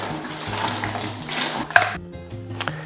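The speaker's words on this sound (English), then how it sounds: "I'm going to wring this out in the drain bucket" Dirty mop water splashes and drips as a mop is wrung out in the drain bucket of a mop bucket, a busy wet rush with a sharp clack partway through, then quieter trickling.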